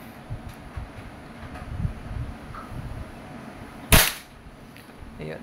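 WE M4 RIS Desert Edition gas blowback airsoft rifle firing a single sharp, loud pop with a brief mechanical clack, standing out against quiet outdoor background rustle.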